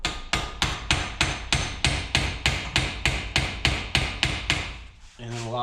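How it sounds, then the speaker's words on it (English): A socket is struck in a steady rhythm of about a dozen sharp metallic taps to drive a bearing onto the rear axle of a 2004 Suzuki LTZ250 ATV, close and clear, followed by a brief low hum. "Now I can hold this, tap this down with a socket."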